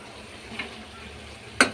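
Tomatoes dropped into a hot pan in a home kitchen, giving a soft, quiet sizzle with a faint clatter and a sharp short hit near the end.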